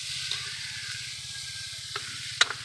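Mixed vegetables sauté in a pan, a faint steady sizzle under a low humming background, with a few brief clinks of a utensil against the pan.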